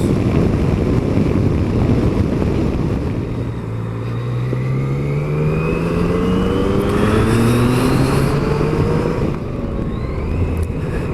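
A Yamaha Tracer 900 GT or Kawasaki Z1000SX motorcycle carrying a pillion rides a bendy country road, its engine droning loud and steady with rising and falling pitch as it accelerates and shifts, under constant wind rush.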